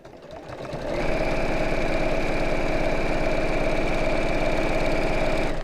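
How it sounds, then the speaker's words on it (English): A sewing machine runs steadily, stitching straight lines with a fast, even mechanical whir that starts up within the first second and holds at a constant, close, moderately loud level without talk. "watching me sew straight lines"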